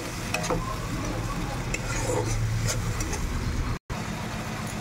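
Chopped tomato with a splash of spiced water sautéing in a pan, a steady sizzle with occasional stirring scrapes and a brief drop to silence near the end, with no talking.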